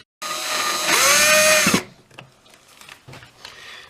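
A power screwdriver or drill briefly runs and whines while driving screws into a Route 66 guitar headstock, one loud burst with a rising then falling pitch, followed by quiet handling clicks and taps.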